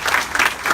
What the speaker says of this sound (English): Just for a round of applause for his appreciation.